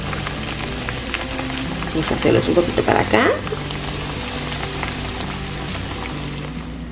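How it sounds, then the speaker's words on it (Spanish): Breaded beef milanesas fry in a pan with a steady, continuous sizzle and crackle, swelling briefly as the cutlets are moved around; a voice talks over the frying. "Y continuamos aquí friendo estas milanesas."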